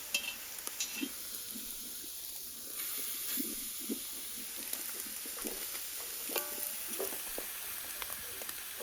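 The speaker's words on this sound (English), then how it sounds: "And now I'm placing these heated stones inside the pot." Hot stones hiss and sizzle among vegetables in a cooking pot, a steady close steamy fizz broken by small knocks and stirring clatters, with no voices.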